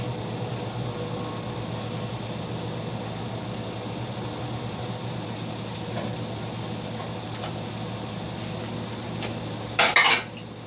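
Meat goes into a pot of boiling water, a steady rolling bubble and hiss throughout, then a brief louder splash and clatter near the end as the pieces drop in.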